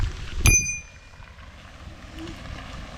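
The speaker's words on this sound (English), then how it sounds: "Hit the bell one time." A bell is struck once, giving a sharp, bright ding with a ringing tail that decays over a fraction of a second, heard against low wind and vehicle rumble.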